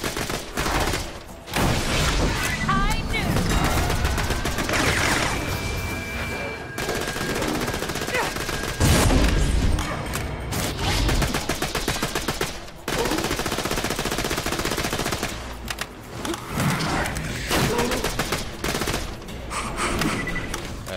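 Rapid gunfire in the shooter video game Borderlands The Pre-Sequel: dense bursts of automatic shots with brief pauses, loud and continuous, under occasional game effects and a talking voice.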